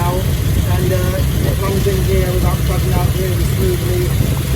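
A tuned car engine idles smoothly at about 700 rpm, a loud, steady low rumble with an even, unbroken rhythm throughout, close to the listener.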